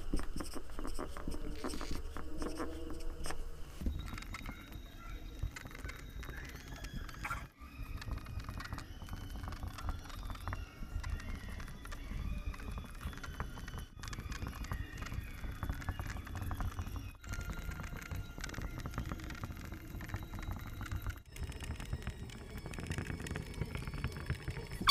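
Writing out a chemistry formula during a Bengali class lesson, a continuous scratchy scribbling with short pauses between strokes, close and fairly faint.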